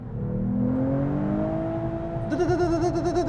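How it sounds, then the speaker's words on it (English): A car engine holds high revs with a steady droning whine, then starts stuttering rhythmically as it bounces off the rev limiter. "So it sounds like it's bouncing off the limiter."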